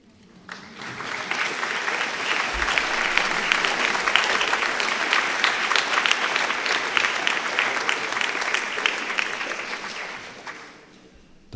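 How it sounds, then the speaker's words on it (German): An audience at a graduation ceremony speech breaks into sustained applause, swelling quickly to a dense, loud clapping that holds for several seconds before fading out. "Jetzt könnten Sie klatschen."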